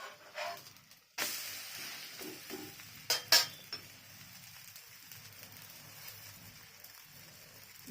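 Methi paratha frying in oil in a pan gives a soft, steady sizzle close by, broken by a few sharp scraping and clattering touches of a utensil against the pan.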